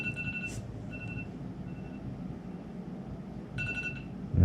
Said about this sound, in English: all right, that's my alarm.